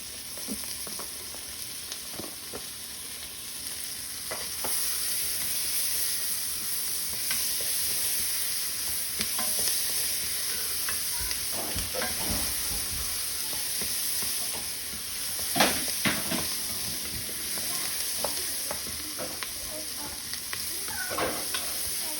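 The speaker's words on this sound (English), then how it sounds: "I'm going to go ahead with my julienne red peppers next." Julienned red peppers fry on high heat for tortilla soup, giving a steady loud sizzle while a utensil stirs and scrapes the pan in repeated clattering strokes.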